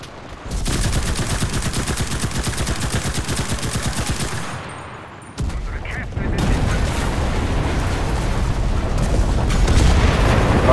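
An MP 3008 submachine gun rattles in long rapid bursts in Enlisted during a Berlin Werbig Station battle, loud and close, pausing briefly before more heavy gunfire and booms mix in.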